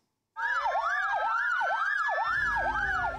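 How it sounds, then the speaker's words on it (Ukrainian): Ambulance sirens wail in a fast, regular up-and-down pattern, loud and close, starting abruptly after a moment of silence. "Проти чого протягом тижня завивали сирени карет швидкої допомоги?"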